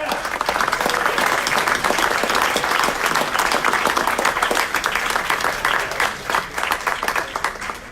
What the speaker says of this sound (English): big round of applause for Ward 6